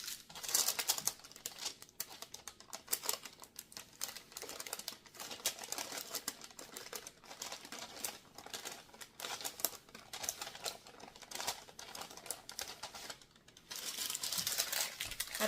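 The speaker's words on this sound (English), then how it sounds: "So I'm going to take out my wax paper or parchment paper." Wax paper or parchment paper handled while making a Brownstone Front cake, giving a steady run of close crinkling and rustling with sharp crackles, louder bursts near the start and end, and no talking.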